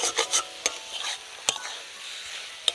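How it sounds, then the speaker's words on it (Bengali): Mashed potato is mixed with spices and mutton fat in a pan: a quick run of close spatula scrapes and taps, then slower sporadic strokes over a soft sizzle, with no talking. "সব কিছু এবার ভালো করে আলুর সাথে মিশিয়ে নিতে হবে।"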